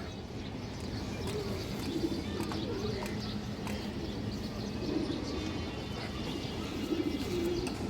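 Pigeons coo repeatedly in low, soft phrases over a steady background hum, several calls spread through the stretch with faint chirps above.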